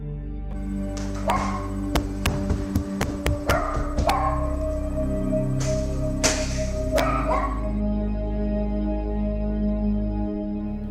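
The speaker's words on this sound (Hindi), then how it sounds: "वो जो कुत्ता है वो बहुत ज्यादा जोर जोर से भौंकने लगता है" A dog barks repeatedly in sharp bursts over a steady low hum, some barks loud and close, others spaced out.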